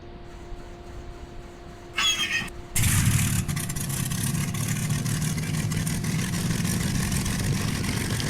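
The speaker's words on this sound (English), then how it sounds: "And we'll start our engines." A Bf 109 aircraft engine starts in a flight simulator game: a brief whirring crank, then the engine catches with a sudden jump in loudness and settles into a steady, rough, loud idle.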